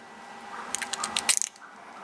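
A plastic zip tie is pulled tight through a hole, giving a quick burst of small ratcheting clicks that speed up over about half a second before stopping, close and clear.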